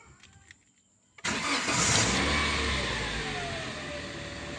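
Toyota Avanza/Xenia, 2012 or later, cranking briefly and catching into a loud running engine nearby, settling toward a steady idle after a few faint clicks.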